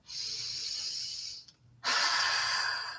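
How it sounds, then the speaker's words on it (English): Long, audible breaths exhaled slowly during a guided meditation, two drawn-out airy breaths separated by a short pause, close and alone with no talking. "Just keep breathing."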